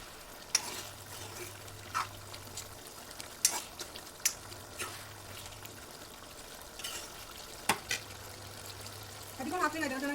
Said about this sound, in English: This is after adding water, and I am boiling it